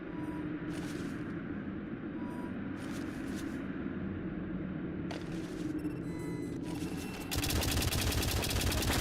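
Turret gunfire in the video game White Knuckle, short bursts of rapid shots breaking over a droning background hum, then a louder sustained stream of fire near the end.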